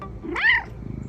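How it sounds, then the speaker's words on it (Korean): A single short meow from a cat close by, rising and falling, followed by soft rhythmic purring-like ticks. "또리야, 야옹 해봐."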